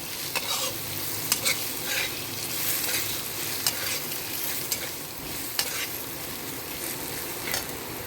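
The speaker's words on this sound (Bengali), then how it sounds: "মশলাটা ভাজা হয়ে গেছে।" Spice paste sizzling and frying in a pan for a banana flower curry, a steady close hiss broken by regular scraping stirs with a spoon, no voices.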